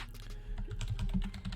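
Rapid clicking of keys on a computer keyboard, a quick run of light, close taps with no voices over them.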